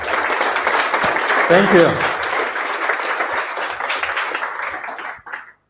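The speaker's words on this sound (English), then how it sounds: "big applause" Audience applause after a lightning talk at a Python meetup, sustained clapping that gradually thins out, with a brief spoken thanks over it and a short vocal sound partway through.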